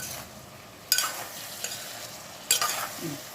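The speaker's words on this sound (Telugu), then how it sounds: "ఇప్పుడు కూడా తిప్పుతాను మళ్ళీ నేను ఎలా తిప్పుతానంటే ఇట్లా తిప్పుతాను" A spoon stirs tamarind stew with drumstick pieces in a pot, giving two distinct scraping strokes and a lighter one between them over a faint simmer, with no speech.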